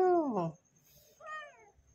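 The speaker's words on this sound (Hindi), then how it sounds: "ये देखो भाई बिल्ली का बच्चा" A kitten meows twice, a clear descending mew followed after a pause by a shorter, higher one, close and alone.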